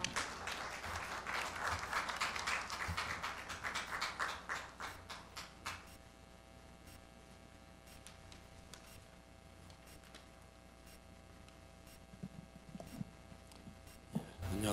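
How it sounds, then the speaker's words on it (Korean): Welcoming applause at a church's 60th-anniversary ceremony, a crowd clapping fairly faintly for about six seconds before tapering off, leaving a quiet hall with scattered small sounds. "나오실 때 따뜻한 환영의 박수를 부탁드리겠습니다."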